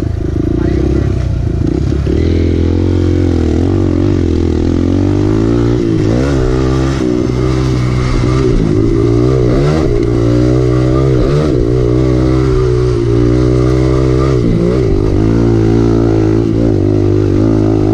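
Small pit bike engine revving hard and accelerating during a race on a rutted track, a loud continuous buzzing drone with rising and falling pitch as the rider shifts, close and dominant throughout with a nearby car-like engine note mixed in.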